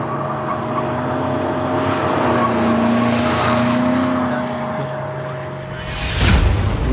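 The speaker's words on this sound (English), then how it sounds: "We have commenced drifting." BMW M5 drifting on a track during a record-setting long drift attempt, a steady loud engine roar with sustained tone, swelling slightly and ending in a sharp tire screech near the end; no talking.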